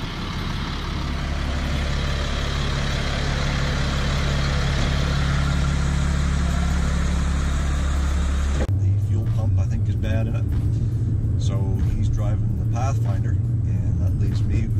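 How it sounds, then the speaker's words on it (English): Dodge Dart car driving on the road, a steady engine and road rumble heard from inside the cabin, with a change in tone partway through and a person talking over it throughout. "the reason why I'm driving the Dart today"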